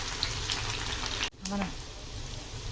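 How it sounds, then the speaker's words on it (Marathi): Onions for chicken dum biryani fry on a low flame, giving a steady close sizzle that briefly drops out and resumes, with a faint tonal clink just after the break. "आता आपण कांदा तळून घेऊया त्यासाठी गॅसची फ्लेम बारीक पाहिजे"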